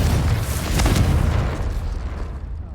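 Confringo blasting spell going off in Hogwarts Legacy, a loud heavy explosion with a crackling burst near its start and a long rolling low rumble that slowly decays; no voices.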